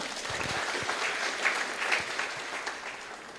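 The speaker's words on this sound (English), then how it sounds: "Clap for them." An audience at a Chuka University young entrepreneurs' business summit claps for the teachers, a continuous mid-level round of applause with a few sharper individual claps standing out.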